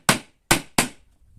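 Three sharp hammer blows driving nails into a small wooden board for a handmade wire mesh jig, close and crisp, with short gaps between strikes.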